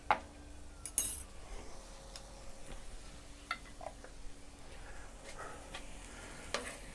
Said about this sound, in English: Here's a spoon of garlic. Get that roasting.